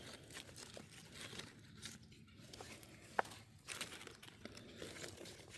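Cabbage leaves pulled off a plant and crumpled in a backyard garden during cleanup, with a soft crinkling, rustling and tearing at close range, faint, and one brief snap partway through.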